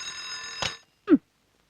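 An alarm clock rings in a morning bedroom scene from a Malayalam action film: one short, bright burst of ringing close by, then a single dull knock and silence.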